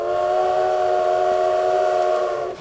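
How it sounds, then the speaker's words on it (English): A train whistle sound effect, a sustained multi-tone chord held steadily for about two and a half seconds, loud and alone, fading out at the end. "So Regan, I hear the train."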